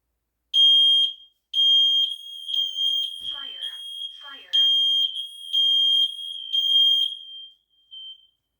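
A Kidde photoelectric smoke and carbon monoxide combination alarm sounds its test signal: loud, piercing high-pitched beeps in bursts with short gaps, heard close up, with brief talk slipped between the bursts.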